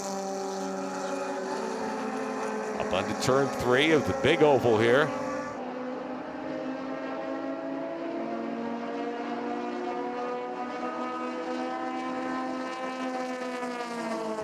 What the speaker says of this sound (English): you can hear the RPM of the engine